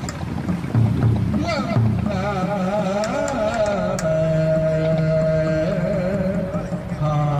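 A large sea fishing boat arrives at the harbor of Lạch Phủ on Phú Quý island, its engine droning with a loud, wavering pitch under wind noise.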